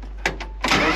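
A BMW 328ci engine cranking twice on a TOPDON JS1200 jump starter, two short turns before it catches and settles into a steady, loud running note.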